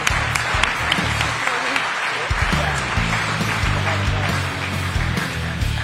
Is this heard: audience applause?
yes